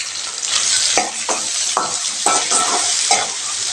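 Tomatoes and onions frying in a pan, a loud close hiss of sizzling oil broken by repeated spatula strokes and scrapes in an uneven rhythm, with no speech.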